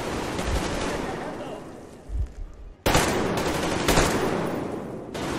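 Pistol gunfire in the video game Metro Exodus sounds as loud, close sharp blasts with lingering noisy tails, a quieter pause in the middle, then a burst of further shots.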